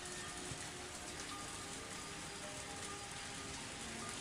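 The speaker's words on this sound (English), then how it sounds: "All of a sudden, big raindrops hit the roof of the car" Big raindrops drum steadily on a car roof in the Higurashi visual novel, a dense constant patter at moderate, even loudness with no speech over it.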